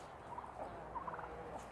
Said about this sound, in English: Hen fight. Come on, girls. Turkey fight.